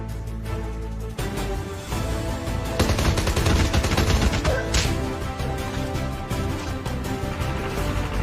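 Sustained gunfire in the video game Narco, with dense, overlapping bursts of shots rattling continuously at a steady, fairly loud level, with no talking.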